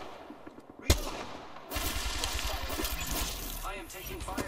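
Incoming gunfire in a video game: one sharp shot early, then a sustained, rumbling stretch of rapid fire and combat noise, with a voice speaking over it.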